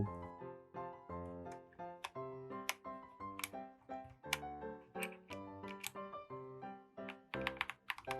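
Keycaps being pulled off and pressed back onto a Hello Ganss HS75T mechanical keyboard, a busy run of sharp plastic clicks and clacks, close and distinct, in an irregular rhythm with a rapid burst near the end.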